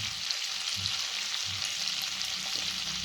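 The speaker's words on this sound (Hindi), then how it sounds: "तो तेल गरम हो गया है, अब हम इसमें डाल रहे हैं खड़े मसाले" Whole spices, including bay leaf and cardamom, frying in a little hot oil for a dhaba-style shahi paneer masala: a steady, close, bright sizzle and crackle that runs throughout with no talking.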